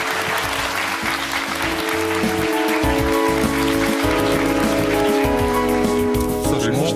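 Studio audience applauding on a Russian TV matchmaking show, a dense, steady clatter of clapping that fills the whole stretch at full loudness, with music tones running underneath.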